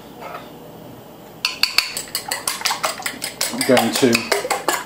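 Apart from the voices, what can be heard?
beating eggs for a cheese omelette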